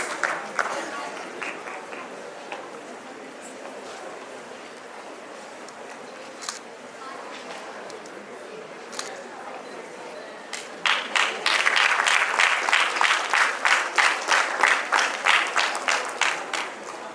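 An audience at a school award ceremony claps, starting softly and scattered, then swelling into steady, fairly loud applause with rapid claps and some camera clicks in the second half.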